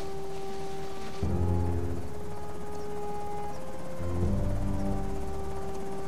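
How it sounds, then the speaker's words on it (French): Helicopter in the video game Project Zomboid, a low steady rotor drone that swells in two passes as it flies overhead, fairly faint against a quiet ambient background. "L'hélicoptère."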